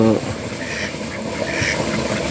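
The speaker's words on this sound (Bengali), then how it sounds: "তো এইখানে এখন সব হাঁস মোটামুটি আসবে" Ducks near a waterlogged patch of grass quacking in a dense, continuous chorus, loud and close against a noisy outdoor background.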